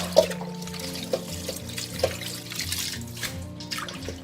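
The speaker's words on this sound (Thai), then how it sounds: "ใส่น้ำนะคะล้างเลยค่ะ" Water running from a tap into a bowl to rinse pork skin for Thai crispy pork rinds, a steady close trickle and splash with a few small clinks against the container.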